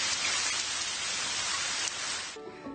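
Steady rain falls as a soothing meditation sound, a dense, even hiss of drops on surfaces that continues for nearly three seconds before thinning at the end.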